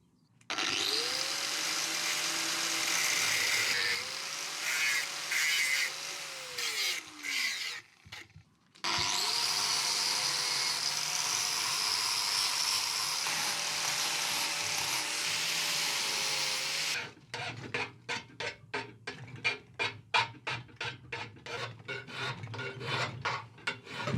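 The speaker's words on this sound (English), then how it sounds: "I'm going to start with the grinder, as I can do bits of it with the grinder" Angle grinder working the inside of a forged steel bending fork, a loud close high whine and rasp in two long passes broken by a brief stop, followed by a stretch of short scraping strokes.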